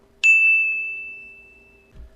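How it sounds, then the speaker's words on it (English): A smartphone gives a single bright text-message ding that rings out clearly and fades slowly over a quiet background, followed by a soft low thump. "his text message went off"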